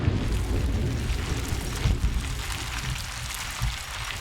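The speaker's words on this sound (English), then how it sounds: "it's still freaking thunderstorming" Steady heavy rain of a thunderstorm in the video game Lucy, Get to the Tower, a dense continuous hiss with low rumbling swells beneath, no voices.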